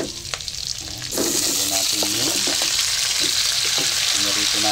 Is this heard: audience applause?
no